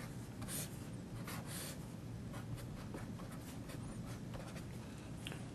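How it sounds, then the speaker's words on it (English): Steady pen-on-paper writing of a mathematical formula by hand, continuous soft scratching strokes with small taps, close and quiet, no voices. "if I write down a function with a formula like this"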